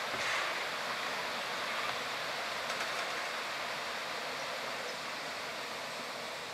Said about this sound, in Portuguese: esse barulho é da cachoeira que corre dentro da mata